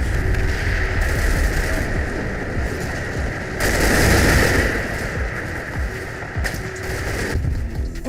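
Rapid bursts of heavy gunfire and booming blasts over a constant engine rumble in the video game Combat Mission Fortress Italy, a tank battle with a Tiger tank and 57mm anti-tank gun, loud and continuous.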